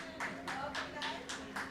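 Scattered, fairly quiet clapping from a small group inside an airport terminal welcoming returning veterans, a few distinct rhythmic claps over a steady low hum.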